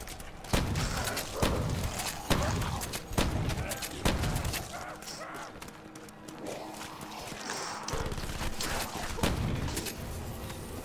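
Gunfire in a Call of Duty Black Ops match: bursts of loud shots and heavy thumps coming in uneven clusters, with dense game noise between them and a voice talking now and then.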